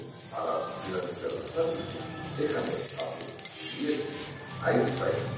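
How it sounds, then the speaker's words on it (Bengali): A chicken roll fries in a little brushed-on oil, giving a steady low sizzle with occasional utensil scrapes and clinks, while someone talks over it. "অল্প তেল দিয়ে দিয়ে ভাজবো এবং তেলটা একটু ব্রাশ করে দেবো"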